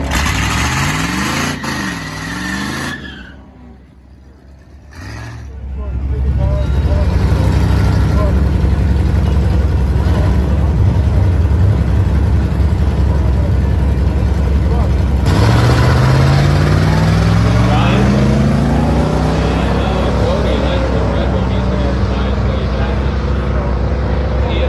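An 80s Monte Carlo at a bracket drag race roars loudly, its engine note climbing through rising revs after a brief lull, with an engine drone dominating the recording.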